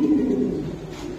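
A pair of pigeons offered for sale at a bird market gives a low, rolling coo, close and clear over a brief moment, with no talk over it.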